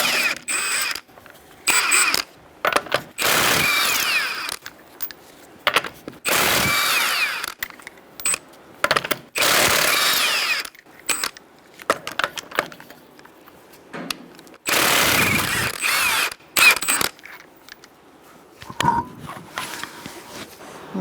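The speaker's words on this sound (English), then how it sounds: "I'm going to use a 21mm socket," A 21mm socket on a ratchet loosens the front wheel of a 2010-2013 Kia Soul. Bursts of rapid mechanical clicking and whirring come close by, with short pauses in between.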